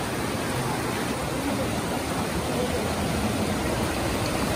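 Steady, broadband rushing of a mountain stream in a canyon flowing continuously, loud and close, with no pauses or voices.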